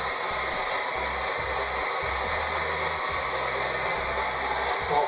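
A hot air blower heats a fire detector, producing a loud, steady whooshing blow with a constant motor whine that runs unbroken throughout.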